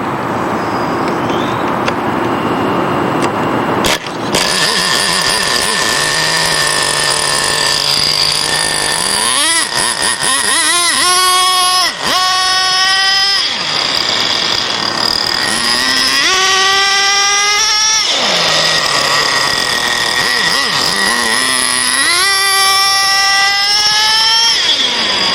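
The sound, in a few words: nitro R/C race car engine running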